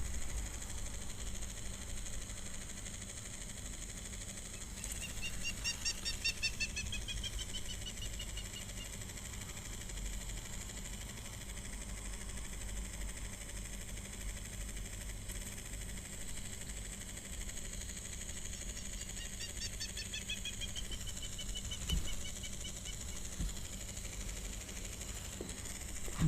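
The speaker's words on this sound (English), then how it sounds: "that is the call of the Hummerkop" A hamerkop calling at an African waterhole, with two separate bursts of rapid, high, wavering twitters over a continuous low mechanical hum.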